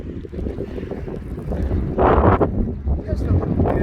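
Wind gusts buffet the microphone outdoors in the rain during metal detecting, a steady low rumble that surges louder around the midpoint and stays strong, with no talk.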